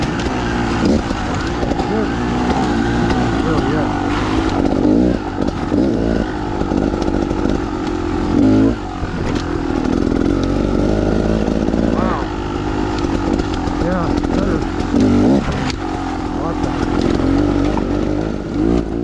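Beta XTrainer dirt bike fitted with Lucky fork inserts and revalved suspension, ridden on a jump track: a loud, continuous buzzing two-stroke-like engine note that rises and falls with throttle throughout, with someone talking over it.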